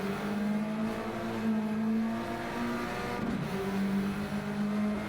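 A Civic Type R race car in a sim race at Brands Hatch accelerates hard, its engine droning steadily with rising and shifting pitch, loud and continuous with no pauses.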